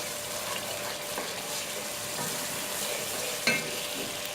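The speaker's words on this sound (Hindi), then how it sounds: "अब हम इसकी अच्छे से भुनाई कर लेंगे।" Masala for fish curry sizzling and frying in oil as it is stirred, a steady hiss with occasional scraping taps and one sharper clink.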